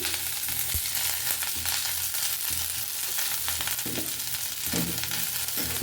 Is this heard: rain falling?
no